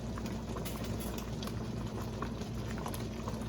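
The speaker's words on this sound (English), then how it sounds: "I think I might leave this to boil just a little bit longer" Spiced blueberry jam bubbling steadily in a pot on the stove, a dense continuous blip and pop of thick boiling fruit, close and even throughout, with no voices.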